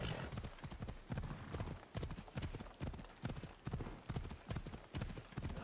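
A horse in the video game Assassin's Creed Odyssey gallops steadily, its hooves pounding in a fast, even rhythm that stays loud and close throughout, with no one talking.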